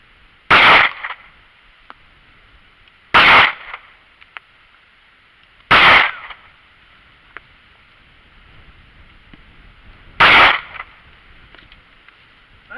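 Four sharp gunshots from a Ruger LCP II pistol fired at targets about five yards away, spaced a few seconds apart, each a loud crack with a brief ring-off over quiet outdoor background.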